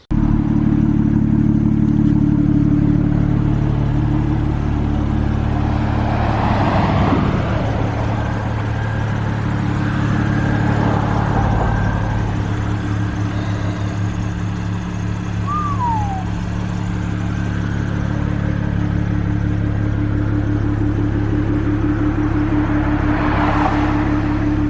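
A car with a swapped-in BMW N54 engine that has rod knock drives down the road, its engine droning loud and steady with a low rumble, a few rises in revs, and faint clatter and whir over the run.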